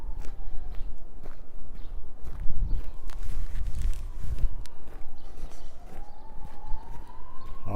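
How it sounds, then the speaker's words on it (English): Distant emergency sirens wail and rise over a busy outdoor rumble with footsteps nearby, on a creek walk in Regina. "A lot of sirens."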